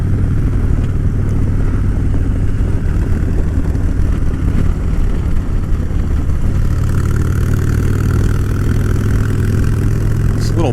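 A motorcycle blasting along a back road in southeastern Ohio, its engine a loud, continuous drone with rumbling throttle changes, and steady wind noise filling the ride throughout.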